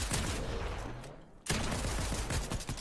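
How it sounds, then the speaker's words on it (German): Rapid bursts of automatic gunfire from the Fortnite battle royale game, loud and close, with a brief pause near the middle before the shooting resumes in dense repeated volleys. "Maybe machen wir hier Schüsse und tun so, als ob wir fighten."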